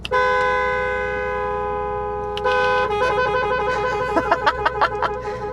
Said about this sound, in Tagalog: Busina check.